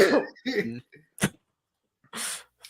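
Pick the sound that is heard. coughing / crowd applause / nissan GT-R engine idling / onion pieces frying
coughing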